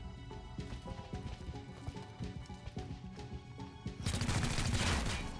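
Gunfire in the tactical game XCOM: Chimera Squad, rapid muffled shots in a stuttering burst over game sound, then a louder, denser rush of noise toward the end.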